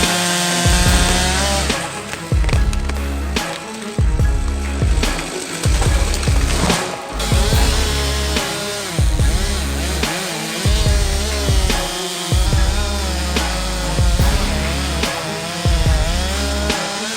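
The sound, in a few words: chainsaw felling a tree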